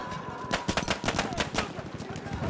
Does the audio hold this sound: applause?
no